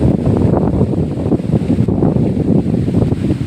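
Strong wind buffeting the microphone outdoors, a loud continuous low rumble with gusty fluctuations and no voices.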